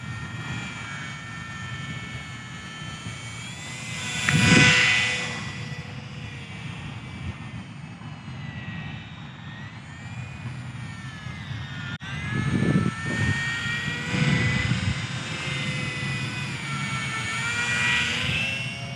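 An Eachine Mini P-47 RC warbird model plane flying outdoors, its small electric motor whining at moderate distance, swelling louder on two close passes and fading between them.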